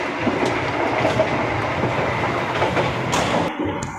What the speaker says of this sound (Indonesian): Karena gerbong saya adalah ekonomi 4 kereta api Jakatingkir